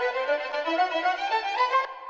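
Sampled string phrase with one note pitch-shifted from A to B, a sustained legato melody that moves through several notes and stops abruptly near the end, with no talking.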